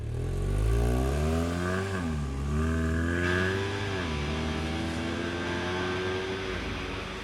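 A Snark ATV fitted with a Toyota engine drives at high speed, its engine droning loud and steady with rising and falling revs as it accelerates and shifts, a continuous close-up roar with no talk.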